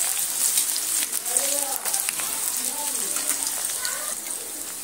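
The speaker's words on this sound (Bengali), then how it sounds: "পেঁয়াজটা একটু নেড়ে চেড়ে ভেজে নিলাম।" Chopped onion sizzles in hot oil in a pan, giving a steady, soft crackling hiss that runs throughout, with faint bird calls or squeaks in the background.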